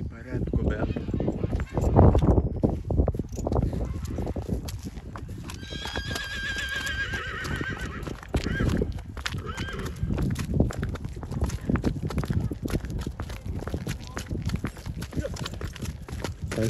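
Ardennes and Polish coldblood horses whinny and neigh amid a busy stable-yard din, with hooves clopping and people talking nearby throughout.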